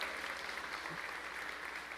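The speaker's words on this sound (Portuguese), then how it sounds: "Pode aplaudir o Senhor por esse texto" A church congregation applauds during a sermon, steady dense clapping filling the room at moderate loudness for the whole stretch, with no voice above it.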